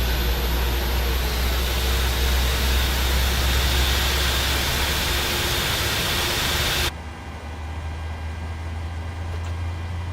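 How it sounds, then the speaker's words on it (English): An airliner engine spools up during start in Microsoft Flight Simulator 2020, a steady loud roaring hiss with a low rumble that drops abruptly to a quieter hum partway through. "Engine number 2 is started."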